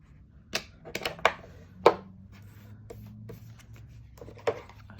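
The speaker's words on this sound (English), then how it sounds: "I just thought I'd round the edges with my little corner rounder" Small handheld corner rounder punch clipping the corners of a photo for a junk journal: a few sharp, close snaps separated by pauses, with faint paper handling between them.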